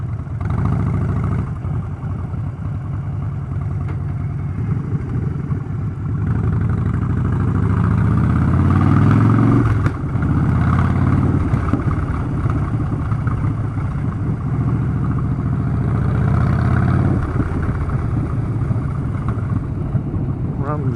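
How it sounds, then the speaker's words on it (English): A Harley-Davidson Street Bob 1690 Dyna motorcycle rumbles loud and steady at close range throughout a ride, its deep engine note swelling slightly partway and mixed with constant wind roar. "especially a Harley as loud as this Harley"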